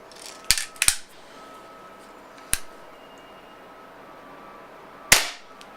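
Sharp shots from a Beeman P1 .22 caliber air pistol, a few crisp cracks at uneven intervals, with a quick double pop early on, near and loud against a quiet background.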